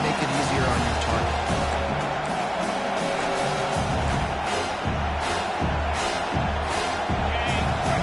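Home crowd roars and cheers steadily in a Madden football video game as the defense tries to get off the field on third down, a dense, continuous stadium wash with voices talking over it.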